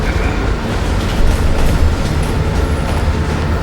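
Train rolling on rails, a loud steady rumble with dense low clatter and rattle that carries on evenly throughout, close by, with no voices.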